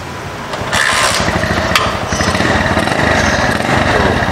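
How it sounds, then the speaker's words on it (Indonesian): An old Honda GL Max motorcycle engine catching and running, its exhaust settling into a loud, close, steady throbbing idle after a brief starting rise, no talk. "Ciri khas banget cuy, suara GL kan, knalpotnya nih."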